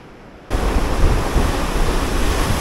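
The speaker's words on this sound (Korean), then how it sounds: "이 파도 보십시오." Sea waves break against the rocky Busan coast on the first stretch of the Haeparang trail; after a quiet half second a loud crash bursts in and becomes a rushing roar of surf and spray, with no talking.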